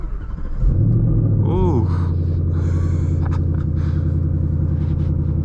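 A 2021 Ford Mustang Mach 1 with a six-speed manual revs hard while driving, giving a loud, steady engine roar that swells near the start and holds through the clip, with a brief exclamation from the driver.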